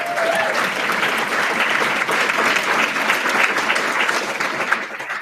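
Sustained applause and cheering from an audience at a spring orientation event, dense and steady throughout with no voice rising above it.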